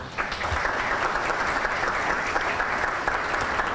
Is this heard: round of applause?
yes